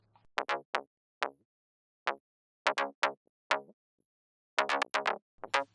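A thin, bright synth bass with its low end cut, leaving only mids and highs, plays short plucked notes in uneven bursts, separated by brief silences.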